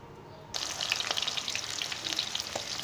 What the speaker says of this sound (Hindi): घी गर्म होने के बाद मैंने प्याज शामिल किया